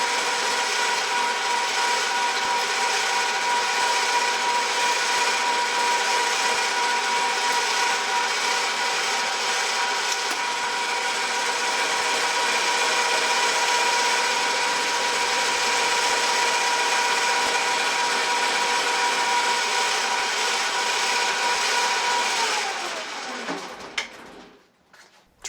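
A Lantaine LAM-350H metal lathe runs under power feed with a loud, steady mechanical whir and gear whine that holds for about 23 seconds, then spins down and stops.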